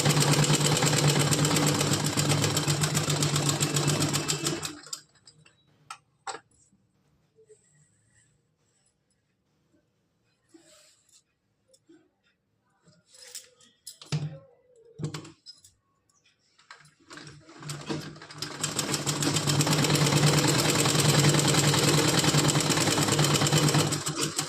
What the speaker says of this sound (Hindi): तो अब इस पे लगाएंगे सिलाई।